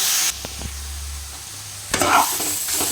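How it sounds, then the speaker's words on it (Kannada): Grated carrot sizzling and being stirred in a hot pan for carrot halwa, a steady loud frying hiss with scraping stir strokes, close up and without speech. "ಇವಾಗ ಇದು ಸ್ವಲ್ಪ ಚೆನ್ನಾಗಿ ಫ್ರೈ ಆಗಲಿ."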